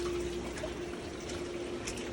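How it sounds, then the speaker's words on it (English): Water from a pond sand filtration system pours steadily into a backyard pond, a continuous close splashing flow with no break, running alone without voices. "my sand filtration system is being active right now, running water into the pond"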